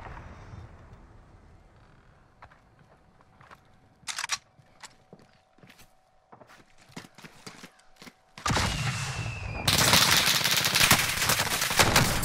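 Gunfire in the Warzone battle royale game: scattered sharp single shots and short bursts over quieter ambience, followed by a sudden dense, loud stretch of continuous firing and noise.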